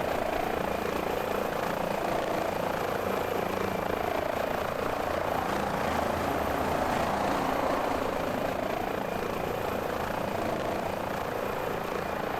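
Helicopter hovering steadily over a car accident scene during a hoist rescue in Microsoft Flight Simulator 2020, a continuous loud rotor and engine drone holding even for the whole stretch with no talk.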